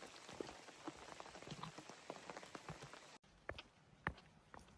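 Steady rain falls on a rocky Appalachian Trail path, a dense continuous patter with scattered sharper drops and a few footsteps, recorded close and fairly loud, with a brief dropout near the end.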